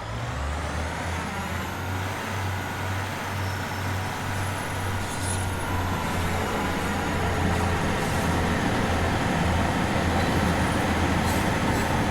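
A diesel multiple unit train in Regional Railways livery rumbles past on a coastal line, giving a continuous loud engine drone and wheel noise with faint squeals over about twelve seconds, with no talk.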